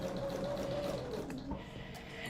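A sewing machine stitches quilt pieces together with a soft, steady whirring hum, faint and continuous, slowing slightly toward the end with no voices.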